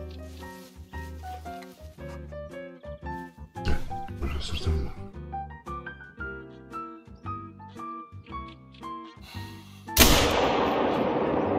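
A single sharp rifle shot from the Yukon Valley hunting video game bursts out near the end, trailing into a lingering echo. Before it comes soft tonal game music with some talking.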